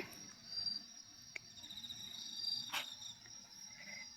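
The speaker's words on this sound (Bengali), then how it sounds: "কি কি পাখি, ঝিঝি পোকা না কিসের শব্দ?" Crickets chirp in a thin, high, continuous trill in a Korean village, with a few brief clicks and rustles nearby; no one speaks.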